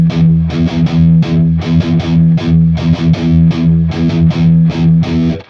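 Heavily distorted electric guitar plays a slow gallop riff, loud and chugging, with clusters of palm-muted notes in an uneven fast-fast-slow-slow pattern and no voices.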